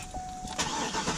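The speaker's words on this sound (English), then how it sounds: "we got the Cadillac here, so let's get a nice cold start" A Cadillac engine cranks and fires up inside a hot garage, a brief close starter whirr followed by the engine catching and rising into a rough, loud rumble, with no talking.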